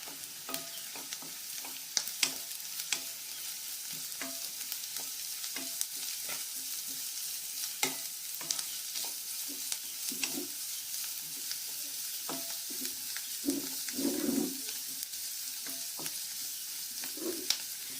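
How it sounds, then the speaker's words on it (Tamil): Cabbage and onions sauté in a pan with a soft, steady sizzle, punctuated throughout by frequent light scrapes and taps of a spatula stirring the vegetables, no voices present. "கோஸ் ஆட் பண்ணிக்கிறோம். கோஸை லைட்டாக வதங்க வச்சுட்டு"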